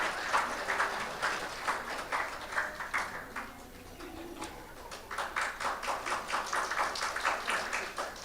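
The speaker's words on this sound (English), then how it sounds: "Please give them a round of applause." Audience applause at a university talk concert as an ensemble of violinists, a cellist and a pianist arrives, a moderate crowd clapping with a brief dip midway before it picks up again.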